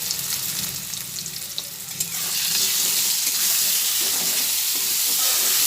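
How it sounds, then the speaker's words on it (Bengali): Potatoes frying in oil with turmeric and salt, a loud continuous sizzle that swells partway through, with stirring scrapes mixed in. "এরপরে নাড়াচাড়া করে করে এটাকে ভেজে নিচ্ছি"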